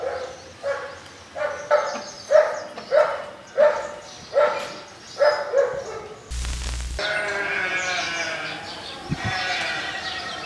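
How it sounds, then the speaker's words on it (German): Dogs bark in a quick series of about nine close, evenly spaced barks. A loud thump and a stretch of rustling, shuffling noise follow. "Hund."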